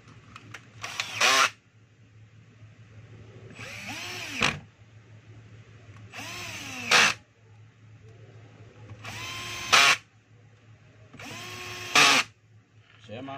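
A power drill drives screws into a DeWalt DW810 4-inch angle grinder in five short whirring bursts, each rising in pitch, with a low hum and quiet pauses between them.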